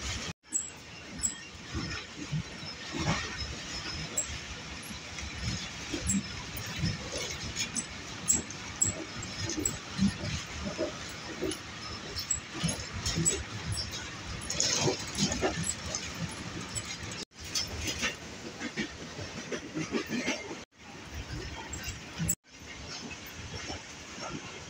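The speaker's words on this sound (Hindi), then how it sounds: "दीना रेलवे स्टेशन से ट्रेन थ्रू पास हो रही है।" A Rehman Baba Express train rumbles steadily through Dina railway station in Pakistan without stopping, a continuous rolling clatter with some faint voices and background activity.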